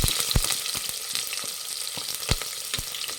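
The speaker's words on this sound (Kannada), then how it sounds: "ಈರುಳ್ಳಿ ಫ್ರೈ ಮಾಡಬೇಕು" Sliced onions fry in a pan with whole spices such as cinnamon stick and fennel, for a plain pulao. A continuous close sizzle crackles throughout, with occasional stirring knocks.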